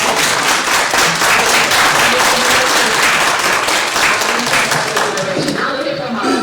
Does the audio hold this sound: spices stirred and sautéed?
no